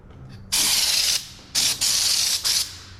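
Fluid Film rust protection sprays from an aerosol can into a dump truck seam in a shop, three sharp hissing bursts, the first about half a second long and the later ones shorter, close and loud.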